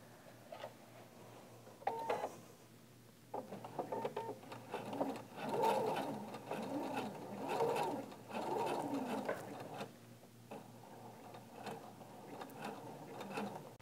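A sewing machine runs in bursts while stitching the long side seam of a silver and gold gift bag, its whirring mechanical stitching close and steady with brief pauses between runs, and no talk.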